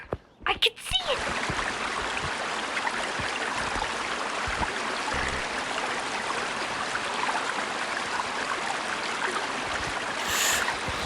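Truck driving through river water in the MudRunner off-road video game: continuous loud rushing and splashing water wash throughout, with a brief knock at the start and no clear speech.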